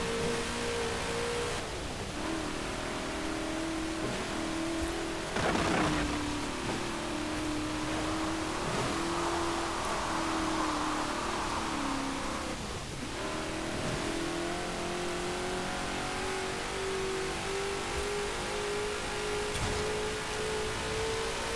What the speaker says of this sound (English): I'll just let you listen to the engine for a little bit